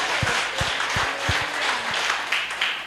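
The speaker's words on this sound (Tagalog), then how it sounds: "isang malakas nga pong palakpak para sa ating..." Loud, dense applause from a congregation during a church service, continuous throughout with a few sharper individual claps near the start.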